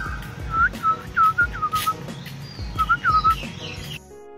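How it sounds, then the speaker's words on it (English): A bird gives a series of short, rising whistled chirps in two bursts, fairly close, over a low background rumble. "And this weird bird noise. I'm thinking it's a bird."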